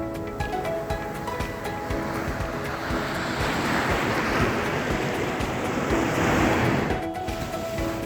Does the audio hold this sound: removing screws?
no